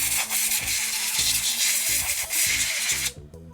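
A compressed air can blasts a hissing, rushing spray into a battery compartment. It comes in several close, pulsing bursts and then cuts off abruptly near the end.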